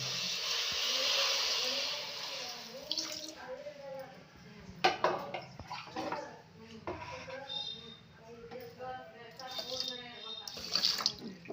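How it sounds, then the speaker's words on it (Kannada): Water is poured onto sugar in a pan to start a syrup for festival sweets: a steady splashing hiss for the first few seconds, then a voice talks over faint kitchen clatter. "ಈ ಸಕ್ಕರೆಗೆ ಸಕ್ಕರೆ ತೊಯ್ಯೋಷ್ಟು ನೀರು ಹಾಕ್ಕೊತೀನಿ"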